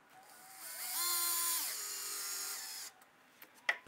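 A power drill drives a half-inch metal screw into a hinge on a DIY wooden project, whining up in pitch for a couple of seconds before stopping, followed by a few faint clicks and taps.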